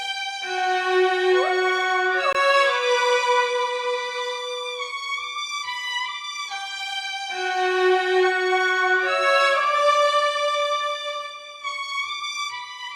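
A soprano choir sample from the Voice of Rapture bank plays layered with violin samples in a rich sustained harmonic chord progression. Chords shift smoothly over about thirteen seconds, full and continuous, with no talking.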